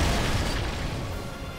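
A deep, rumbling boom from the video game LEGO Marvel fades out slowly, a low explosion that tapers away over a second or two.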